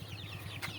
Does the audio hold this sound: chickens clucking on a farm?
yes